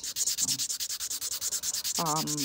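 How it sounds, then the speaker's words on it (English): A stamper being smoothed by hand with a file and sandpaper: close, steady back-and-forth rasping strokes, about eight per second, loud and continuous, with a brief tonal squeak near the end. "just start working through and just get everything smoothed out, and then progressively work up into smaller and smaller grits"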